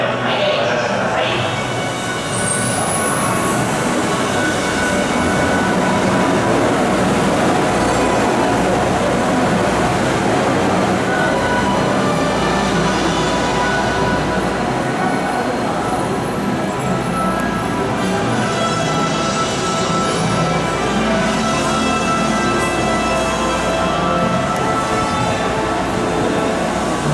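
A train rumbles steadily at a station on the Tokyo Disney Resort line, a continuous hum and roll of wheels and motors lasting the whole time, fairly close, with faint voices and announcements in the background.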